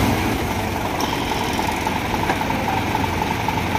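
A vehicle engine idles with a steady, continuous hum and faint vibration, close and even throughout, no talk over it.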